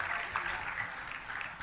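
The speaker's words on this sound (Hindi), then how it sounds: "एक बार तालियां इनके लिए जोरदार।" Audience at a Jain religious question-and-answer gathering applauding, a dense, even wash of many hands clapping that holds steady throughout the short burst.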